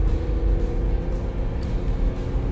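Jeep Gladiator driving on a road, a steady low engine and road rumble heard from inside the cab with no talking.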